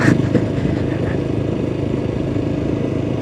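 Motorcycle ridden along a road beside a river and a railway line, its mid-pitched engine droning steadily up close with some rattling clatter, no talk over it.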